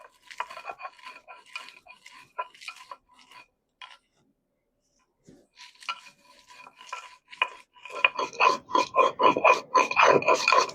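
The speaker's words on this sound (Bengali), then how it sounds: "গোটা মশলাগুলো এবারে শিলপাটায় নিয়ে একটু গুঁড়ো করে নেব।" Whole cumin, coriander and five-spice seeds crushed on a stone shil-pata slab with a grinding stone, rhythmic rasping scrapes in short bursts, a pause, then faster, louder grinding strokes toward the end.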